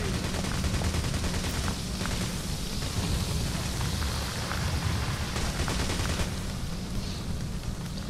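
Dense, continuous gunfire from the video game Payday fills a heist shootout, a loud, unbroken roar of rapid automatic shots and blasts with no pauses.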